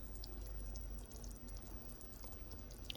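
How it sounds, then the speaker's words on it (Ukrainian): Salmon soup with coconut milk simmering in a pot, a soft continuous bubbling and dripping texture, close and fairly quiet, with no talk. "Дивіться, як воно прекрасно булькає."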